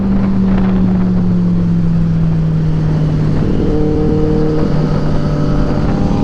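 A Triumph Street Triple 765 RS motorcycle engine drones steadily close by, its pitch shifting as it passes, with constant wind rumble throughout.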